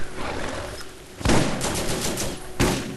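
Gunfire in Borderlands while shooting at an enemy, with bursts of rapid shots cracking loudly, a pause, then another heavy burst, recorded close and without talk.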